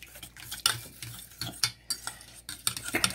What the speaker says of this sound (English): You put the warm butter in there with it.